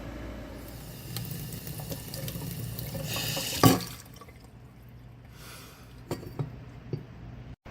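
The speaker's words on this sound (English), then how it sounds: "I'm going to try some water." Water runs from a tap-like pour into the bowl of a custom petcock on a Honda CB750 cafe racer fuel tank, a steady splashing trickle with a brief louder gush midway, then quieter drips and small clinks.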